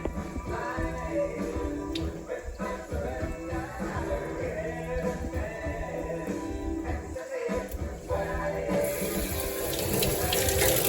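Tap water runs steadily into a sink to rinse a freshly developed photographic print, making a close, continuous splashing rush. The flow shifts slightly and brightens toward the end, with a faint voice in the background.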